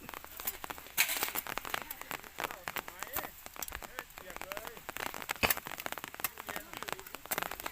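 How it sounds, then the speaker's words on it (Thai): Light rain patters over a cassava farm field in scattered, irregular drops that tick and crackle softly, staying faint but steady for several seconds. "มาแล้วครับฝน"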